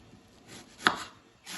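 A knife chops a medium onion on a cutting board in a home kitchen, quiet taps with one sharp distinct chop in the middle.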